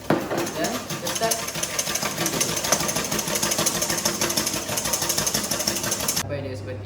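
Electric mixer beating meringue for a Sacher torte as caster sugar goes in, a steady buzzing motor whir with a fast rattling pulse that cuts off abruptly near the end.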